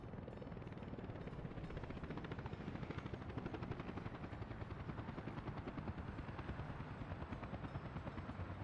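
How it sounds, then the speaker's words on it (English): A helicopter in a video game drones on with a steady, fast rotor chop, loud and continuous, with no talk. "Well, it's a good thing the helicopter's coming."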